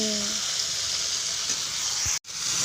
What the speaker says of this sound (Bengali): চলো, এটাকে ভালো করে কষিয়ে নিই।